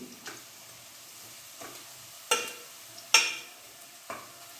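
Onions browning in a pan for chicken biryani sizzle softly under a low frying hiss, punctuated by several sharp spatula scrapes and stirs about a second apart, close and without speech.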